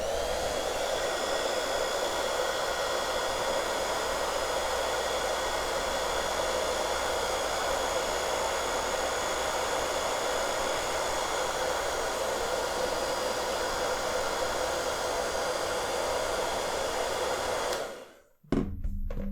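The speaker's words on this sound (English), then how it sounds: "I like to keep mine dry, so I use a hairdryer." A hair dryer blows steadily at full power on high heat, a loud continuous whooshing hum that runs unbroken, then cuts off abruptly near the end.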